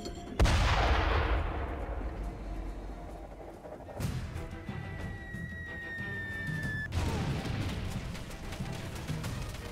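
Mortar firing in Far Cry 2: a heavy booming launch, followed by further deep thuds and rumbling blasts spaced a few seconds apart, loud and close, with a faint whistling tone between impacts.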